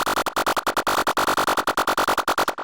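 A harsh, buzzy FM synth tone from the Serum synthesizer built with its remap function, pulsing rapidly and evenly in dense bright bursts throughout, loud and alone.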